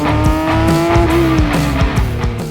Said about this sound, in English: This is the 2024 Porsche 911 ST.